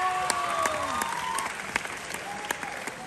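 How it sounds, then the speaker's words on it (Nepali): Audience at a comedy show applauding volunteers, a strong burst of dense clapping that carries on steadily for a few seconds, close and loud, with faint voices underneath. "उहाँको लागि ताली फर्काइदिनुहोस्"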